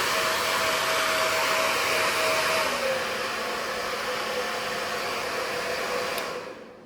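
An Agaro hair dryer fitted with a diffuser runs at full speed, a steady close whooshing roar of fan and airflow that holds level for about six seconds before cutting off abruptly, with no talking.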